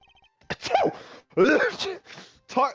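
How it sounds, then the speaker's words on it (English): A sneeze from a character in the Ace Attorney Investigations game, a sharp burst followed by breathy vocal gasps and exclamation-like sounds, close and fairly loud. "Wow, I actually sneezed there."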